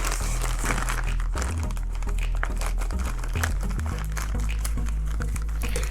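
Plastic packaging around a sway bar bushing for a Town & Country or Grand Caravan crinkles and crunches as it is cut open, with close, busy rustling and snapping throughout and no speech.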